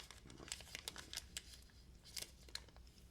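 Small taped-up plastic bag from a Kizer knife package handled up close, with repeated soft crinkles and rustles in short bursts, quiet and alone.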